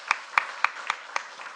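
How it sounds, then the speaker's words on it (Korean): A church congregation at a special early-morning prayer service claps for those being thanked. Half a dozen sharp, evenly spaced claps ring out fairly faintly in a quiet hall. "한번 자리에서 일어나시면 박수 한번 드리도록 하겠습니다."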